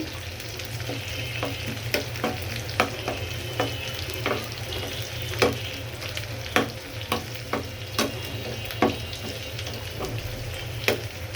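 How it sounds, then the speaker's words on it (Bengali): Sliced onions fry in hot oil, browning for beresta in a home kitchen. A constant sizzle runs underneath, and a spatula scrapes and clinks against the pan in frequent irregular strokes, close by and without any talk. "এখানে আমি পেঁয়াজ বেরেস্তাটা করে নিচ্ছি।"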